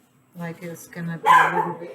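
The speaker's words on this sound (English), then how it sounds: "Oh, sorry about my dogs." Household dogs barking indoors during a silicone flower-pot mold-making session, with a sharper burst late in the clip mixed into steady talking.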